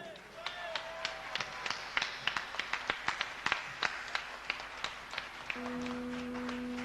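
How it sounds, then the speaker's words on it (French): Sparse, steady hand clapping from a small audience, fairly quiet, with a voice murmuring underneath; a steady tone sounds at the end. "Je tiens à ce que vous applaudissiez Michel et Régis à la sono."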